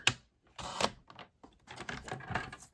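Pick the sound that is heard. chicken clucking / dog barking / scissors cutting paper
scissors cutting paper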